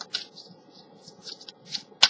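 Tarot cards being shuffled by hand, a series of soft papery riffles and flicks in close, quiet succession, with no talking.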